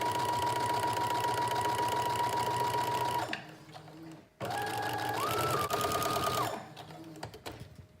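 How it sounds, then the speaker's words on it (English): A sewing machine fitted with a walking foot stay stitches the front piece of a teddy bear jacket: a loud, close, steady mechanical whir that stops briefly, then restarts for another run and winds down. "I have my walking foot on, and I'm going to stitch from the notch towards the collar"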